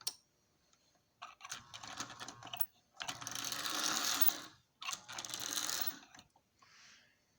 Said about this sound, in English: it's going to consist of using this Marx diesel motor